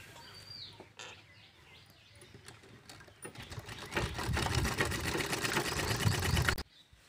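Sewing machine stitching pleats on a baby frock: faint handling at first, then the motor whirs loud and close in a steady rapid run for about three seconds before stopping abruptly.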